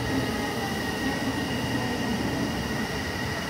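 A 2020-series electric train departs a station, rumbling steadily past at close range, a continuous heavy mechanical roar with a faint high whine, no voices.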